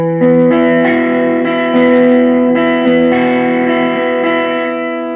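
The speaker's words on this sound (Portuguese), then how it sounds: "um drive bem levinho." Electric guitar through a lightly overdriven drive setting on a Zoom GFX-5 multi-effects pedalboard, sustained chords and notes ringing with slight grit and reverb, close and loud, alone.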